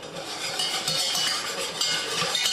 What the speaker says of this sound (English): then I'm just going to whisk it